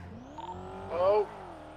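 A car engine in the video game GTA drones with an odd, strained tone and a slowly rising pitch, swelling briefly louder in the middle, with faint voices in the background.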